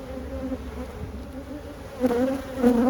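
Honeybees in a hive that is preparing to swarm, droning in a steady close buzz that swells louder toward the end, with no talk over it.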